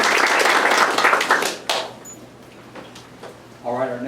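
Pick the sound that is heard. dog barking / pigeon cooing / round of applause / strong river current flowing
round of applause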